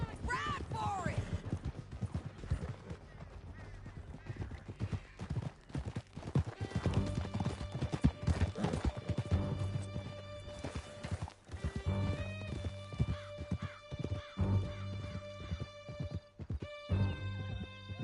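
Horses gallop in Red Dead Redemption 2, a dense, continuous drumming of hooves with occasional whinnies, loud and close throughout over a steady backdrop of game music.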